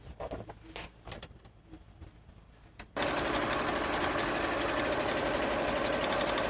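Soft fabric rustling and handling come first, then a sewing machine starts abruptly and runs fast and steadily, stitching around the edge of a duster jacket until the end.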